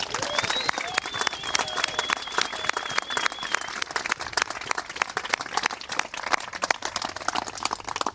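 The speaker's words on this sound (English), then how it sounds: "give him a resounding round of applause" Audience gives a round of applause at an outdoor farm-to-fork event on the UC Santa Cruz Farm, sustained crowd clapping at moderate level with a faint whistle and crowd noise mixed in.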